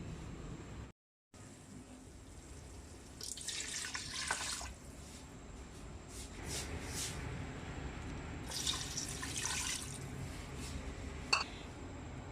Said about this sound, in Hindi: तीन प्याली हमने इसमें पानी डाल दिया है।